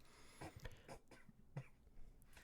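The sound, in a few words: a little throat cough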